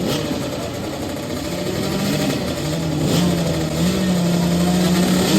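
Kids' motorbikes revving at a race start on a practice course, a loud steady engine drone that climbs in pitch as they pull away, close by.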